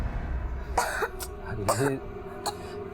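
Several short, harsh coughs in quick succession, close by, with a low background hum and a faint voice underneath.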